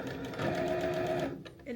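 Sewing machine running a short back stitch through fabric while making a small tote from 10-inch quilting squares, a steady close whir that stops abruptly near the end, with a voice heard over it.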